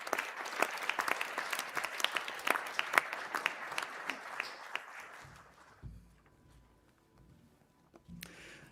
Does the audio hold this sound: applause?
yes